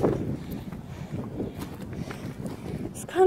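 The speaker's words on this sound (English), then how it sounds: "It's kind of windy up here." Gusty wind buffets the microphone on a steep wooded hilltop trail, a rough low roar that swells and fades with faint movement beneath it.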